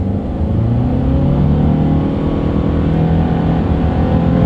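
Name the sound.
2023 Subaru Outback with CVT accelerating to speed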